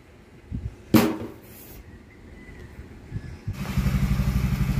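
A motorcycle being tested with a magnesium fuel additive gives a few clattering knocks, then its engine starts and settles into a steady, close, pulsing idle.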